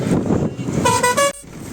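A vehicle horn honks on a road in Nepal. One short blaring toot cuts through the steady rumble of traffic nearby.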